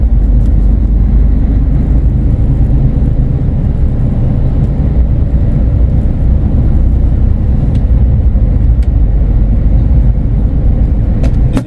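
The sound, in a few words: heavy road traffic heard from truck cab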